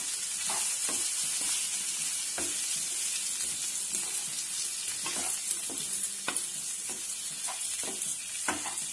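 Tamarind and grated coconut sautéing in a pan for an onion-free spicy chutney: a steady hiss of frying under repeated spatula scrapes and taps, close and moderately loud, with no voices.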